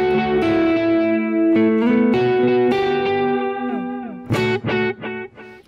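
Clean electric guitar chords and single notes, shimmering with chorus and trailing delay repeats, played alone at steady volume with a few sharp plucked accents near the end.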